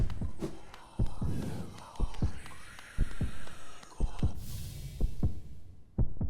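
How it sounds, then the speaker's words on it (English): Hollow Knight heartbeat sound effect during a randomizer run, thumping in a slow, regular doubled beat about once per second, loud and close over a low ambient hum. "with the heartbeat"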